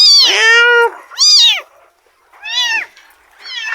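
A domestic cat meows several times, loud and close, with drawn-out rising and falling cries separated by short pauses and no talk over them.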